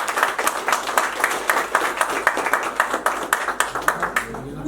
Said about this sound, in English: We have to step up and give ourselves a round of applause